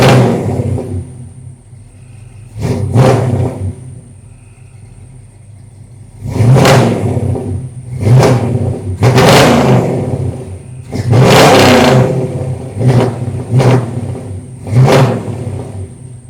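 A 1972 Chevrolet Suburban's engine revs up in several loud bursts over a steady idle rumble, each rise swelling and falling back, heard close by with no talk.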